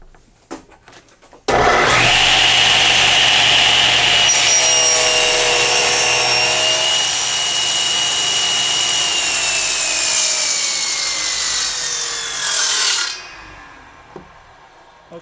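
A router cuts a wooden tenon on a PantoRoute jig, a loud steady whine with a low hum that starts abruptly after a brief pause, holds for about eleven seconds with a slight drop in pitch midway, then cuts off.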